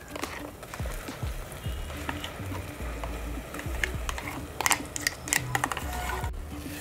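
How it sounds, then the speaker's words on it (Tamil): Ground masala for a chicken gravy sautéed in a hot pan, a soft low sizzle with intermittent scraping stir strokes and a few sharper clicks, fairly quiet and close, no talking. "இந்த மசாலாலாம் போட்டு ஒரு ரெண்டு நிமிஷம் நல்லா வதக்கிக்கிறேன்."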